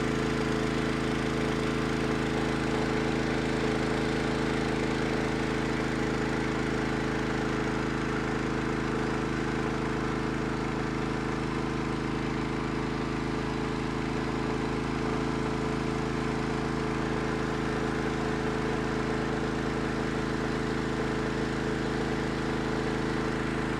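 Tazawa FP3 high-pressure water pump running steadily and loudly with a constant engine drone and no pauses throughout.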